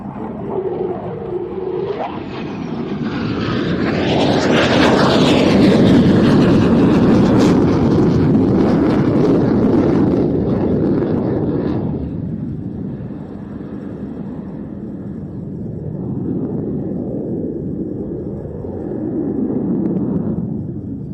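A Turkish Air Force F-16 display jet roars loudly overhead at an airshow, its broadband engine noise swelling to a peak as it passes, fading, then rising again toward the end, with no talk.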